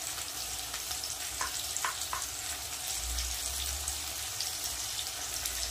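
Tomatoes and onions frying in a pan, a steady bright sizzle and crackle with a few soft clinks of stirring, close and continuous.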